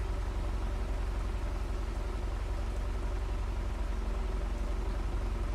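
A tractor engine idles steadily just after start-up in the Farming Simulator 25 video game, an even mechanical rumble with a constant pulse and no voices.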